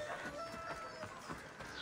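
Chickens in Assassin's Creed Odyssey cluck faintly in short bursts over a dense background of game ambience.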